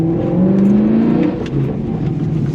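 BMW E92 M3 with modified exhaust and valves open, driven on the road: a steady, loud engine drone that climbs in pitch under acceleration and then eases, heard close from inside the cabin.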